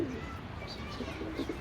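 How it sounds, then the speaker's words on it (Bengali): Green-necked pigeon cooing in a loft, a few soft low coos spread across a short stretch over steady background noise. "তো এটা কিন্তু একটা সবুজ গলা কবুতর।"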